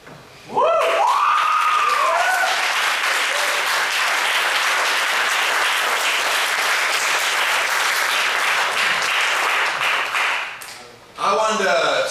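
Loud, sustained applause with cheering from an open mic poetry audience, a whoop at the start, clapping steady for about ten seconds before a brief voice cuts in at the end.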